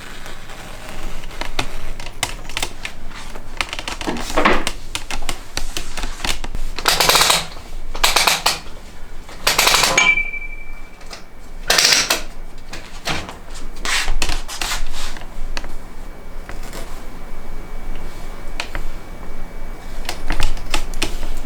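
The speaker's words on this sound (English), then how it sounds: "I am going to cut all the way across the top of the quilt." Sharp scissors cut across the top of a quilt still mounted on a longarm frame, sounding as repeated close, crisp snipping bursts with pauses between them, with no voices.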